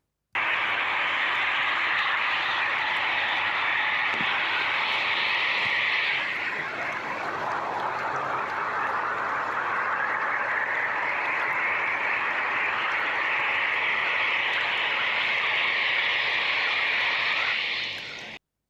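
A high-pressure drain jetter hisses and roars steadily for the whole stretch while clearing silt from a storm drain, its pitch dipping briefly midway before climbing back, loud and close.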